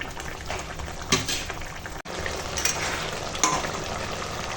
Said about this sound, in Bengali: আর দেখো এখন মাছটা রান্না হচ্ছে